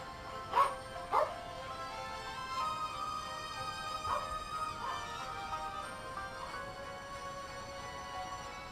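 Dog barking in the background, two sharp barks early on followed by softer yips and whimpering barks scattered through the rest, moderately distant.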